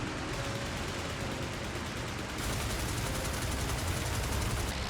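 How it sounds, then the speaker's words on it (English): Machine gun fire from a WWI fighter plane firing a long diving burst, a dense rapid rattle of shots blending into a continuous harsh roar that stays loud throughout, with no voices. "This allows Rhys-Davids to fire a long diving burst at Voss"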